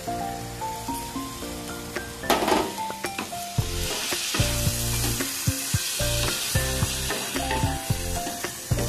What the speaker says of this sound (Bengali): আমি পালং শাকটা দিয়ে একটুখানি আমি কষে নিলাম